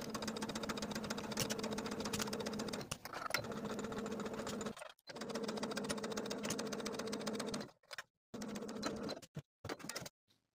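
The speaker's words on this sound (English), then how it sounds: "Now I'm going to take this to the sewing machine and sew the binding all around the armhole with a 1/4 inch seam allowance." Sewing machine stitching bias binding around a dress armhole, a fast mechanical whirring hum in several bursts separated by short pauses, heard close and fairly quiet.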